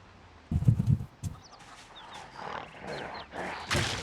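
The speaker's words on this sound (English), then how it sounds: "Wow, this place is loaded with chickens." Chickens in Project Zomboid clucking and squawking, a loud burst early followed by scattered softer clucks and chirps over faint background noise.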